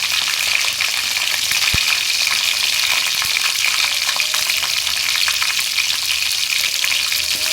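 Masala frying in a pan for potato chicken curry, a loud steady sizzle and crackle that carries throughout, with a single sharp tap near the start.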